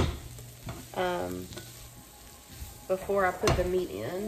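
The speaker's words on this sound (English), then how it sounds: "I'm going to go ahead and add a good amount of garlic in here" Garlic tossed into a pan of softened onions sets off a soft sizzle and frying crackle, heard under a person talking.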